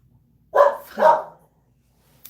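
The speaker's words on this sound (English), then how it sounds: "Sorry about the dog." A dog barks twice in quick succession, close and fairly loud, after a near-silent pause, with a faint tick at the end.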